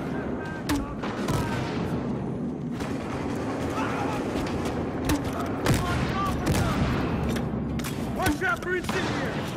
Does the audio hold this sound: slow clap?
no